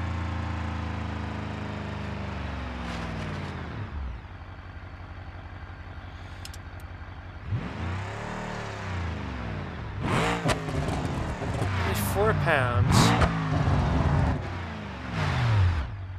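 Car engine with compound boost from a supercharger and turbo in BeamNG.Drive, revving up and down in loud sweeps, falling back to idle, then several sharp rising revs.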